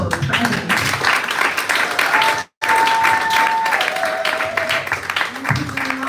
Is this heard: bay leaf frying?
no